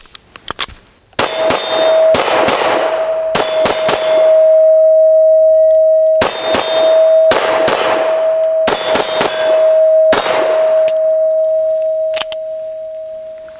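An FN 509 CC Edge pistol fires a string of sharp, loud shots at irregular intervals, each with a ringing metallic tail as a steel target sounds, over a steady tone; after faint clicks, the shooting begins and continues close by without speech.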